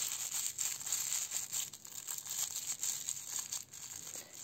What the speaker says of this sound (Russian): Вот уже наше крылышко шуршит у нашей игрушки.